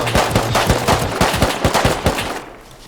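Rapid gunfire in the survival video game Rust: a close, loud volley of sharp shots in an irregular, fast rhythm, fading toward the end.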